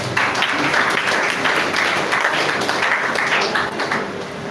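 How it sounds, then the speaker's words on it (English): Sustained applause from a seminar audience at a foundation launch, dense and steady clapping filling the room without pause. "Please give a round of applause"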